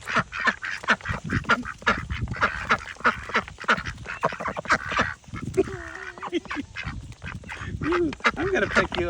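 A flock of ducks and ducklings, loud and close, quacking and honking in rapid overlapping calls throughout, with a person talking among them.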